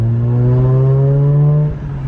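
Mazda RX8 R3 rotary engine with a cheap eBay exhaust giving a short acceleration, a loud rising buzzy tone climbing for about a second and a half before cutting off to a quieter idle, close and with no talking.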